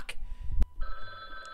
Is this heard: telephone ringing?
yes